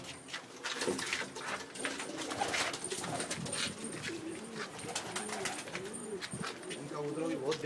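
Domestic pigeons, including small black flying-breed birds, coo softly in a loft in Ujjain, a steady murmur of low calls running throughout, with faint voices in the background.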